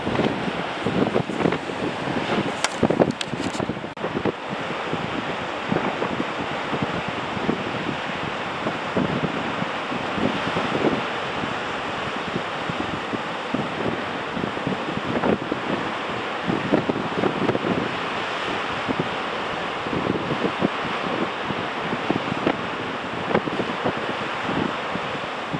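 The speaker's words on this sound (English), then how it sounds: "Far too windy for drones." Strong coastal wind at Cullen roars and buffets the microphone in continuous gusts, with the wash of surf blended underneath for the whole stretch.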